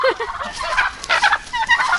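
Several turkeys grazing in a village yard in winter gobble in quick, warbling bursts, fairly close and loud, overlapping one another in a busy flock chorus.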